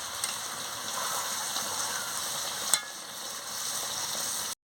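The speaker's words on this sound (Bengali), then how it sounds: "জলটা দিয়ে ভালো করে নাড়িয়ে নিচ্ছি।" Chicken curry with purple yam and potato is stirred in a pot just after water goes in, a steady wet sizzle and swish with one sharp clink of the spoon midway, close and continuous, then abrupt silence.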